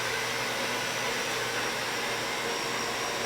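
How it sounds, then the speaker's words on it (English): A blow dryer set on medium roars in a steady, loud, unbroken whoosh of air while drying latex, no speech over it. "take a blow dryer, set it on medium, and just give it a quick shot"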